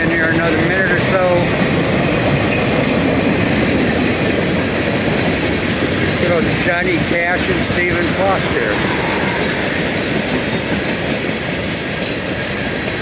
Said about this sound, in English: Freight train right here crossing the Suwannee River.